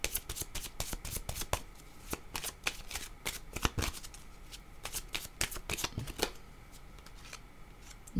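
A deck of tarot cards is shuffled by hand in quick, crisp riffles and slaps, repeated bursts of papery flutter close to the microphone, with no talking.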